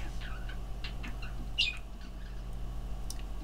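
A pet bird gives a few short chirps and one sharp squawk indoors, brief and moderately close, set against a steady low background hum.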